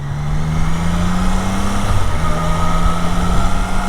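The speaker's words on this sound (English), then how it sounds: "I just can't get over how silky smooth that engine is" A 2024 Triumph Daytona 660 motorcycle engine hums steadily and smoothly at close range, with a brief dip in pitch partway through, like a gear change, before settling back into an even drone.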